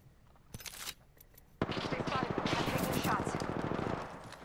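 Gunfire in the video game Apex Legends, beginning with a few sharp isolated shots and then breaking into a sustained rapid burst of automatic fire that stays loud and close until near the end.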